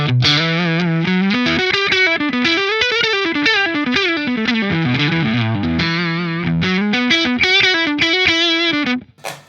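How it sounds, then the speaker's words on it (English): An electric guitar riff runs through a Laney pedal in its most compressed distortion setting, thick and sustained with a wavering bent melody, loud and close, ending in a sudden cutoff. "we're going to start with distortion 1, which is actually, I guess, the most compressed sound"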